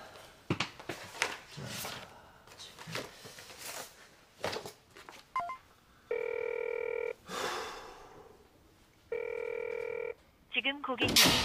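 A telephone rings twice in long steady electronic bursts, each ring about a second long with a pause between, and the call goes unanswered. People talk and move around it in a room.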